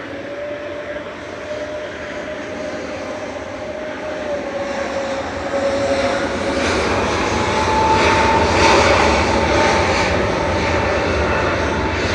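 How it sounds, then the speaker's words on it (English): Turkish Airlines Airbus A321neo jet taking off at Manchester Airport, engine roar building steadily from a whining tone into a loud, broad rumble that peaks near the end, with no talk. "Turkish 1196 to Istanbul, going next, A321 Neo"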